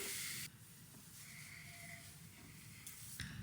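A can of root-lifting hair spray hisses in a short burst aimed at the roots of the hair, close and fairly loud, then the air settles and a second brief spray begins.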